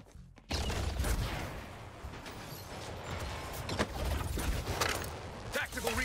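Gunfire in the video game Suicide Squad: Kill the Justice League, a dense, continuous clatter of shots that starts abruptly after a brief quiet moment and carries on loud and busy to the end, with speech mixed in.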